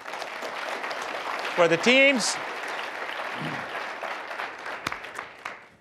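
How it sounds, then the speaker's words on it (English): Audience applause for the teams at an Oxford-style debate, sustained clapping from a seated crowd, with a speaker's voice briefly heard over it. "let's give a round of applause for"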